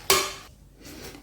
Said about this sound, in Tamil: லேசாக ஒரு மிக்ஸ் கொடுத்துக்கலாம்